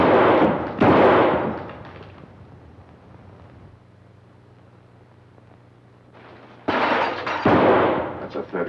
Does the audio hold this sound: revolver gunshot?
yes